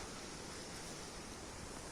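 Steady roaring rush of strong wind, continuous and full, like heavy gusts buffeting outdoors with no voices.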